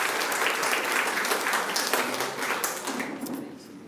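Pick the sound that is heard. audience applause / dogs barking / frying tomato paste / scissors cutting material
audience applause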